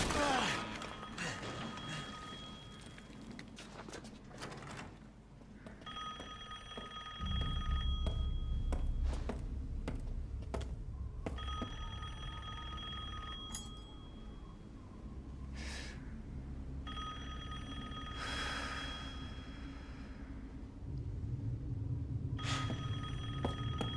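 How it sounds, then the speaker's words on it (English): A telephone rings in Resident Evil Village, in repeated ring bursts separated by short pauses, over a low rumbling ambience in a game scene, with no talking. "Can you hear a phone ring?"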